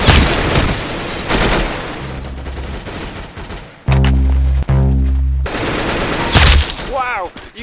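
Rapid video game gunfire from a shooter game: bursts of shots and booming impacts, with a loud heavy stretch in the middle, some voice chatter in the gaps.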